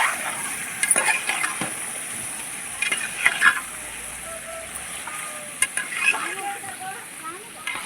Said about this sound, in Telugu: ఇప్పుడు మనం చికెన్ వేసేసుకున్నాం. మొత్తం కలిపేసుకుందాం ఒకసారి.